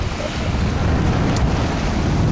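Strong wind roars with waves surging against a small Corribee sailboat on a cold, damp, grey Atlantic day, a steady loud broadband rush of wind noise and water with no talking.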